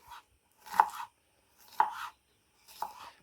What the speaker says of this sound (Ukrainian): Ще цибульку дрібненько поріжу і з морковкою піджарю на сковорідці.